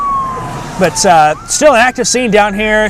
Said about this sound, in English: We hear more sirens and ambulances coming through from this area now.